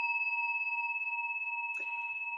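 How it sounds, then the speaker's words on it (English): A mindfulness bell in a dharma practice setting sustains a steady, clear resonant tone that hums on evenly at low volume, with a brief soft rustle near the end. "when you hear the sound of the bell"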